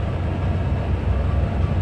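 A train rolling in Trainz 2022 near a rail yard: steady, loud low rumble of wheels and engine, continuous and close, with no voices.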